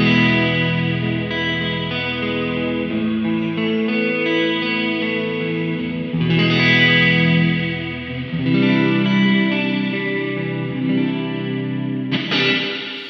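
Electric guitar run through a Baby Audio Crystalline algorithmic reverb at its default setting, chords ringing out with a shimmering, washy tail, steady and fairly loud with no talking.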